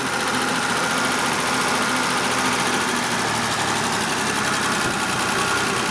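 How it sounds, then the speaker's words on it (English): A BMW 733i car engine idles at a steady, elevated speed, a continuous loud hum with constant vibration and no voices. "it's idling really high"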